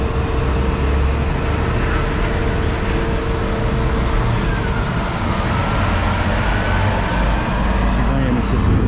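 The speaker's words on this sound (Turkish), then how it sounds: "Scania'nın sesi bir başka." A Scania truck engine runs at a port on a rainy day, a loud, steady, even rumble that holds without a break from start to finish.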